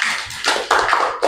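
A classroom group gives a short round of applause, a brief spell of scattered, uneven claps lasting about a second.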